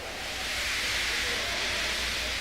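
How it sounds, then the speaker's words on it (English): A steam locomotive on a railway loop line lets off steam feebly, a steady, soft hiss that runs unbroken from start to finish with no voices over it. "He just let off steam feebly."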